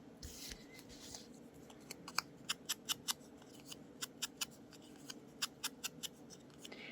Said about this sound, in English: when you cut circles, turn the paper.